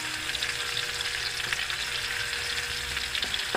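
Onion frying in a pan for chicken feet adobo, a steady close sizzle and crackle with a faint stirring scrape, continuous and even throughout.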